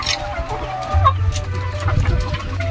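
RTL laying hens clucking steadily in a poultry house, several birds close by with overlapping soft clucks over a low hum.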